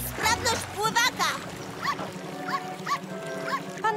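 Cartoon dog barking in a children's animated firefighter show, a series of short yelps repeating at a steady pace amid splashing water, mostly on its own after a voice speaks at the start.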